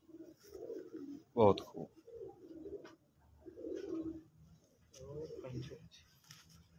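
Pigeons coo in soft, low, repeated bursts at a fancier's loft in Attock, Pakistan, mixed in with men's conversation and one louder sharp call.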